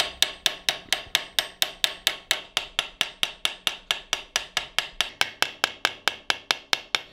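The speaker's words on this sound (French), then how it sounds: "Un petit coup de boutrole." Steel hammer striking a rivet set while peening a rivet on a handmade chef's knife handle, a steady run of about thirty sharp, ringing metallic blows at an even, quick rhythm, close and loud with no talk.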